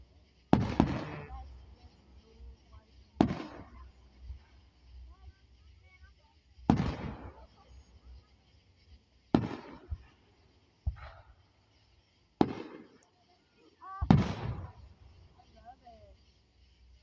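Fireworks at an outdoor show: six sharp, loud booming bursts spaced a few seconds apart, each with a short crackling decay, and quiet pauses in between.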